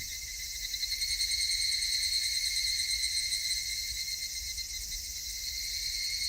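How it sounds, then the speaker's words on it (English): Cicadas call in the game Higurashi, a steady, shrill, high-pitched drone that holds without a break at an even, fairly loud level. "Just take a second to listen to the calm sounds of the cicadas."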